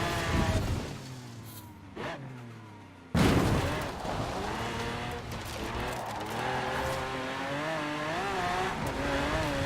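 Hummer H1 Alpha Open Top Edition in Forza Horizon 4, engine droning and shifting pitch as it drives over rough terrain, with a brief drop and a sudden surge of engine noise midway.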